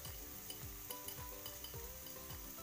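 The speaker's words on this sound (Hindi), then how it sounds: "अब इसमें हम डाल दिए हैं प्याज, लहसुन और धनिया, साथ में हम पीस लिए थे। इसको हम 2-3 मिनट भूंज लेंगे।" An onion, garlic and coriander paste is frying in a pan, giving a faint, steady sizzle broken by repeated scraping stirs and soft clinks of a utensil against the pan.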